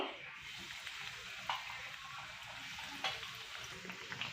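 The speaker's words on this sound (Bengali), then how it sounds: "এইগুলো একটু উল্টে দেবো, এরকম করে সবগুলো ভেজে নেবো।" Bread slices frying in a pan over a low gas flame give a steady, soft sizzle with faint scraping from being turned, and a couple of brief clinks along the way.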